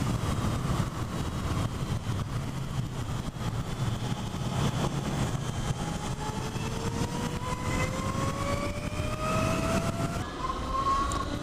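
A Zero SR electric motorcycle accelerating hard, its motor whine rising steadily in pitch over a loud, continuous rush of wind and road noise, close and with no talking.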